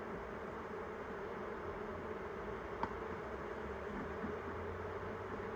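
A low, steady buzzing of a large swarm of honey bees hums continuously at close range, faint overall, with one brief click partway through.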